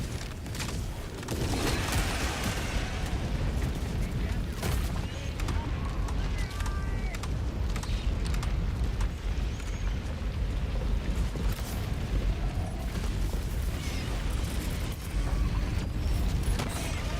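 A strafing run in the Helldivers 2 video game brings a dense, continuous barrage of rumbling explosions and crackling blasts that rolls on loudly for the whole stretch, with voices talking over it.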